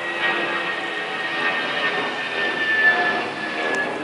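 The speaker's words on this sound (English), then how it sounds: "every 45 seconds, there's another airplane going over" A fixed-wing airplane passes overhead under the flight path of Miami International Airport, heard as a steady, broad jet roar that holds level throughout with no talking.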